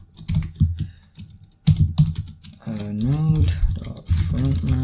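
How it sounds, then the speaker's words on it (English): Typing on a computer keyboard while coding a GatsbyJS blog, bursts of close key clicks alternating with someone talking over them. "I'll just type stuff manually, I guess."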